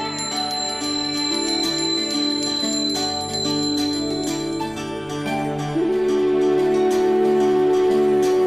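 A ritual bell rings continuously during a morning Hindu puja at home, bright metallic peals repeating with sustained ringing overtones, loud and close, with no talking.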